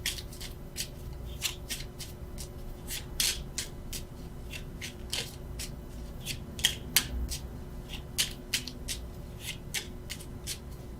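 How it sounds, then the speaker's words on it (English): Tarot cards are shuffled by hand near the microphone, a quiet run of crisp riffling flicks and soft rubbing slaps repeating at an uneven rhythm, with no one talking. "why I keep shuffling"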